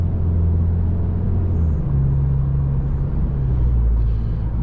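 Car engine rumbling while driving on a winter road at night, a loud, steady low drone with a slight pitch shift partway through, close and continuous with no talk.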